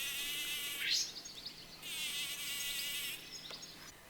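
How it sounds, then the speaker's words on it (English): A tree bumblebee buzzes loudly up close while sonicating comfrey flowers to shake out pollen, a steady high-pitched whine that breaks off briefly and then resumes before fading. "And here's a tree bumblebee buzzing to release pollen from comfrey."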